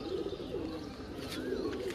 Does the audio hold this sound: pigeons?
yes